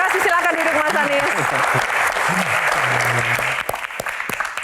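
An audience claps during a televised Q&A with an Indonesian politician, loud sustained applause with a voice talking over it before the clapping thins into scattered claps near the end.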